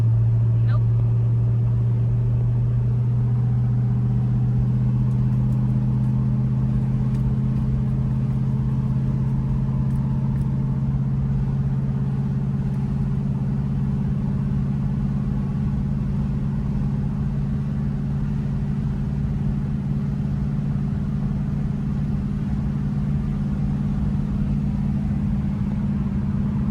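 A 1963 Studebaker Avanti's engine hums steadily from inside the car as it drives and shifts gears, a low continuous drone with slight changes in pitch, fairly loud and even throughout.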